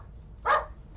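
A pet dog gives a single quick bark from somewhere in the house, moderately loud and short, set against a quiet room hum.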